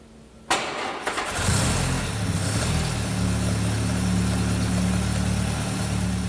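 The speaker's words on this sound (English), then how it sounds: "plugs are replaced and the engine started" A classic car engine, freshly fitted with new plugs, cranks briefly and catches, then settles into a steady, loud idle that runs on evenly to the end, close by and with no talking.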